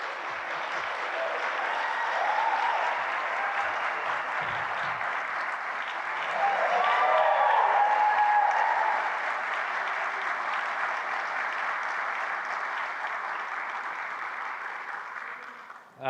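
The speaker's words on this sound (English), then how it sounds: "that round of applause was really good" An audience at a keynote gives sustained, loud applause, dense clapping that swells slightly midway and carries on evenly for about sixteen seconds before ending abruptly.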